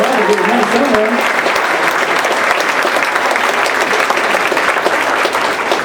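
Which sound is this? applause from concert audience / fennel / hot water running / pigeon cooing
applause from concert audience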